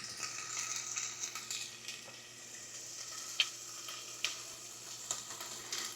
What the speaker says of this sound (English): You hear all that sizzling?